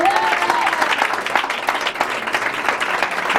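A church congregation claps and cheers together to acclaim Jesus, a loud, dense burst of applause with crowd voices mixed in, sustained throughout.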